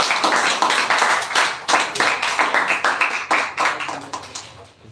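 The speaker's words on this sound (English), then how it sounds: "Clap for him." An audience at a computer-education speech semi-final claps steadily for several seconds, a dense burst of hand claps that swells and then tapers off.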